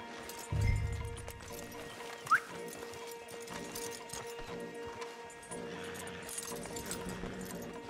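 Horses' hooves clip-clop in Red Dead Redemption 2 as a team of stallions is led along, a steady mid-level trot blended into game ambience with one brief sharp chirp and no speech.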